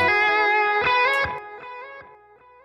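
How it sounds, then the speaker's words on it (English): Electric guitar solo with Echo Boy delay, sustained singing notes and bends whose repeats trail off behind each phrase, loud and alone, decaying over the last second. "And again, I've got the Echo Boy on the solo."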